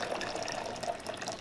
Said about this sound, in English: I'm going to put 2 cups of hot water in here